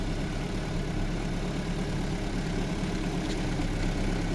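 A restored 2002 Toyota Altis idles with a steady, even engine rumble, close and constant throughout, with no talking.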